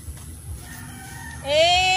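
A neighbour's pet chicken sounding off nearby, a rising, drawn-out crow or loud squawk breaking in after a quiet stretch, close and clear over faint background noise.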